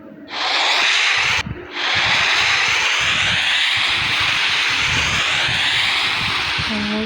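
A jetpack in a video game roars with a loud, steady jet-like hiss. It cuts out briefly near the start, then resumes and holds strongly to the end, with faint in-game sounds beneath.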